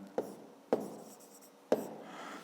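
Handwriting during a fifth-grade maths exercise, three sharp taps of pen or chalk on a surface, each followed by a brief scratching stroke, close and quiet.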